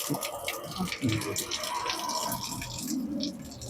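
Water drains steadily from a pot of cooked rice, a continuous close splashing trickle with a few drips, while a voice speaks intermittently over it.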